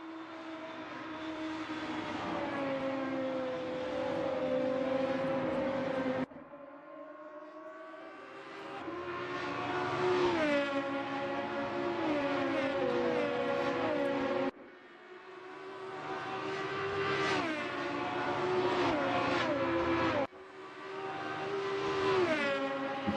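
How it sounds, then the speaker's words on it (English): Several Volvo S40 BTCC touring cars race around Road America in a sim racing game, their engines droning loud and close with rising and falling pitch as they shift up through the gears, broken by brief lifts off the throttle. "pretty iconic sounds coming out of these BTCC cars. Volvo S40."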